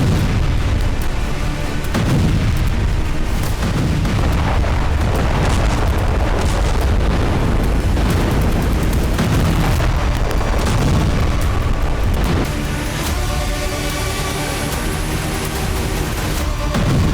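Heavy booming blasts and rumbling impacts from Israeli air strikes on Arab countries, loud and continuous with repeated deep thuds and crackling bursts throughout.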